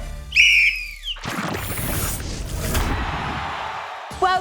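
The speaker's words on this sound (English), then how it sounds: "you will go on my first whistle" A single sharp referee whistle blast sounds loud and close, signalling the start of a slime-filled game show challenge, followed by crowd noise and commotion, then a brief second chirp at the end.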